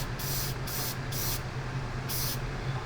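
Primer hisses from a spray can onto a 1/144 Gundam OZ-06MS Leo plastic model kit in close, steady bursts, with several short pauses between passes and a continuous background hum.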